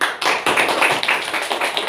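Schoolchildren in a classroom clapping their hands together, a close, loud burst of slightly uneven claps with a brief pause before a quicker rhythmic run.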